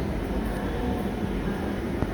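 Dhaka metro train at Agargaon station, a steady low rumble and hum of the train and platform, with no talk.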